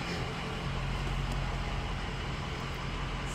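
Bus engine idling nearby: a steady, low rumbling drone with a constant hum, unchanging over a few seconds and with no voices.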